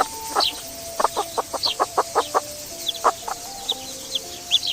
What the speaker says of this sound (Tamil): ஐ கோழி